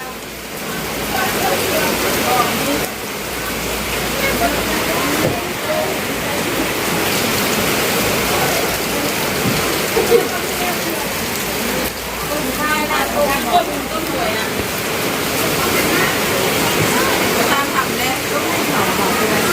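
Heavy rain pours down steadily during a storm, a dense continuous roar of water close by with no break throughout, loud and broadband like a downpour drumming on surfaces.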